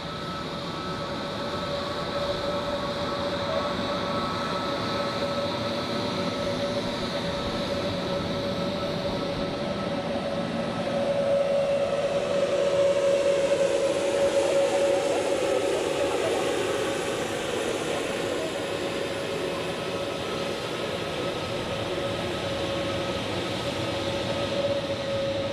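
An Iberia Airbus A320neo jet taxis past at Zurich Airport. A sustained engine whine and rumble carries a steady tonal hum, growing louder in the middle as the aircraft passes close, then easing off, with no talk.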